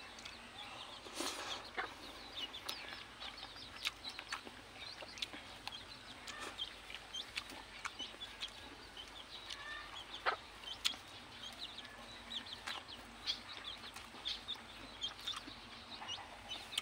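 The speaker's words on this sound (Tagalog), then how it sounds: "kundi ingay ng mga ibon" Chickens cluck and a rooster calls among scattered bird chirps, distant and fairly quiet against a soft outdoor background on a rural farm.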